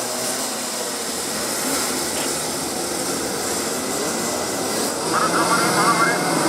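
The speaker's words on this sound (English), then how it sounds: "it's a green flag as all the drivers pedal to the metal, full throttle in these icy wet conditions" Rotax Max racing karts at a national karting championship surge away at full throttle on a green flag in icy wet conditions, a dense continuous engine roar that swells slightly toward the end, loud and sustained.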